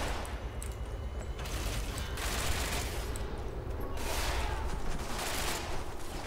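Sustained gunfire from Tom Clancy's Ghost Recon fills a multiplayer match, dense bursts of shots continuing throughout at steady loudness with faint voices.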